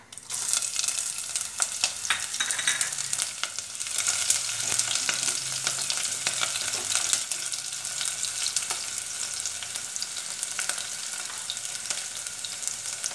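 Chopped onion and garlic fry in hot oil after mustard seeds have popped, the base of a jackfruit-seed stir-fry, producing a continuous close, bright sizzle with scattered crackles and occasional stirring scrapes.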